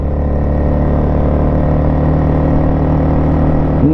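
A 1996 Yamaha Wolverine 350 4x4 ATV engine drones steadily while riding on the road in high gear, a loud, even, low hum with no talking.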